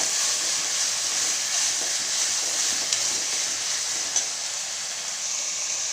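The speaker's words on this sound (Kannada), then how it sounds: "ಸೊ ಫ್ರೈ ಆಗ್ತಿರೋದು ಸ್ವಲ್ಪ ಚಿಲ್ಲಿ, ಸ್ವಲ್ಪ ಉಪ್ಪು ಸೊ ಹಾಕ್ಕೊಂಡು ಚೆನ್ನಾಗಿ ಸ್ವಲ್ಪ ಫ್ರೈ ಮಾಡ್ತೀವಿ" Vegetables sizzle steadily in a hot pan with chili and salt, a constant bright hiss of frying that stays close and even, with only a couple of faint clicks and no voices.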